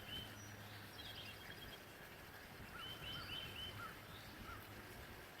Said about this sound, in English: you were able to hear some of the birds chirping and a little bit of water running by